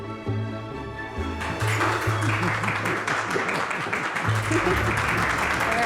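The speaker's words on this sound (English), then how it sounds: "Applause." Audience applause at a home-design show gathering, a steady wash of clapping over sustained music tones, with a voice speaking partway through.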